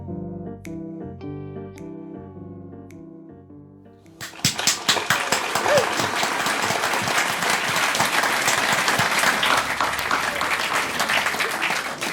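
Music with a melodic instrumental tune ends, then a folk club audience bursts into loud, sustained applause that continues to the end.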